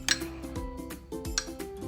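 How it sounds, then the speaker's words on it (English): Quick stir of a barbecue, onion and potato egg cup mixture in a dish: light clinks and scrapes of a utensil against the container, close and brief. "Give it a quick stir."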